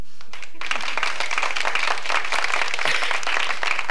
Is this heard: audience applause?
yes